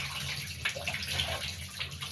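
Hand-washed shirt being rinsed in a tub of water, soft continuous sloshing and splashing with small swirls, close and fairly quiet, no talking.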